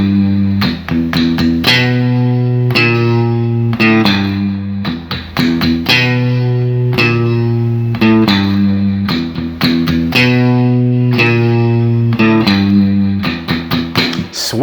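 Loud, close distorted electric guitar plays a verse riff, repeated chugging chords with ringing sustained notes in a steady rhythm, with no talking over it.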